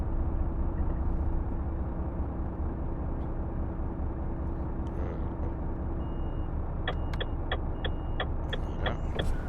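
A truck in Euro Truck Simulator 2 drives slowly with a steady low engine rumble and road noise, and near the end a series of evenly spaced high beeps sounds over it.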